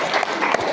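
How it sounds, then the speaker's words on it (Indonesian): A classroom group applauds for the third presentation group, a brief burst of quick, dense clapping, close and fairly loud. "tepuk tangan untuk kelompok ketiga"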